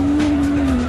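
A drift car slides through a corner at Drift Australia's 2005 Wakefield event, its engine holding a loud, steady tone with tyre squeal mixed in, close and continuous for under a second.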